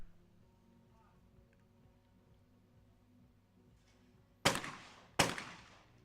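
Two sharp shotgun blasts at clay targets during a mixed-team skeet final in Leobersdorf, Austria, sounding about a second apart and ringing out with a decaying echo after a quiet stretch.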